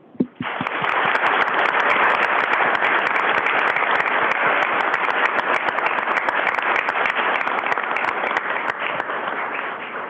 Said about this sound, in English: So I want to take a second to give you guys a round of applause.